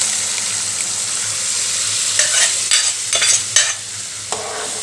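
Dal is stirred into softened tomatoes in a hot pan, a constant sizzle broken by several scraping spoon strokes in the second half, close and loud with no voices.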